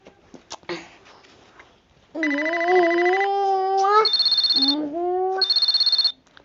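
A telephone rings in the Toca Life World game: a loud, sustained electronic ringtone with warbling rising tones and rapid trilling bursts, preceded by soft scattered sounds.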